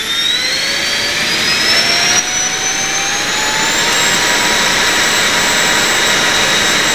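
An AEO 8-blade 40mm electric ducted fan runs at full throttle, a loud, close, continuous jet-like roar with a shrill whine that climbs steadily in pitch and then holds, with no talking.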